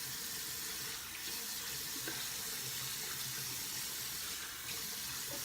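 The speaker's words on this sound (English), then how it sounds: "I'm going to rinse off with some cold water" Cold water runs steadily from a faucet for rinsing off, making a constant splashing hiss at moderate volume with no pauses.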